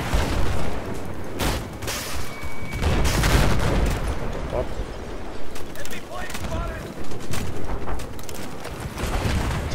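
Battlefield 4 gunfire, with dense bursts of rifle shots and booming explosions going on throughout and players talking over the shooting.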